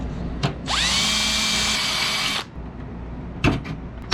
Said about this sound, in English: It does not want to slip in, so we got to just drill it a little, not too much.